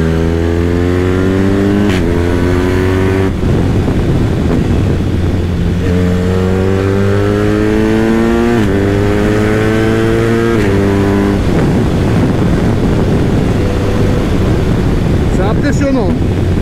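A motorcycle the rider calls the Accra, its engine revving up loudly through several gears on the road, pitch climbing and dropping at each shift, with heavy wind rush over the microphone throughout.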